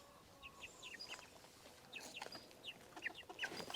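Baby silkie chickens on a farm: soft, scattered cheeping and clucking calls, faint and somewhat distant, repeated irregularly over quiet background noise.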